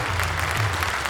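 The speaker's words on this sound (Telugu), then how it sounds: "చప్పట్లందరూ కొట్టాలి" Brief burst of audience applause at a Telugu meditation gathering attended by political leaders, dense and steady clapping filling the hall for about a second.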